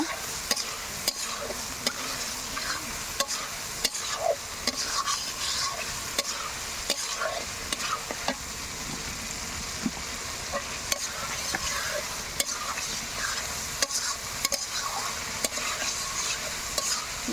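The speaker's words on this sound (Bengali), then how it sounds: "এখন দিয়ে দেবো টমেটো ভালো করে কষে নেব" Tomatoes and spices for a chicken curry sizzle in a pan, with a spoon stirring and scraping in a quick, regular rhythm of sharp clicks over continuous close frying hiss, and no talking.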